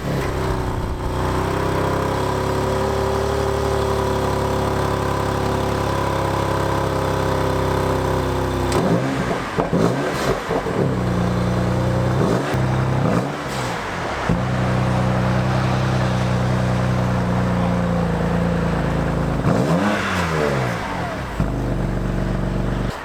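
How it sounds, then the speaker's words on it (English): Audi RS3 exhaust, a steady loud engine drone that breaks into several sharp revs and throttle blips, each one rising and falling quickly, close to the car with no voices over it. "The exhaust sounds shit."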